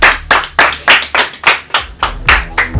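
Clapping for a game show contestant comes as a steady series of about ten sharp, loud claps in an even rhythm, close and distinct, with a faint low hum underneath.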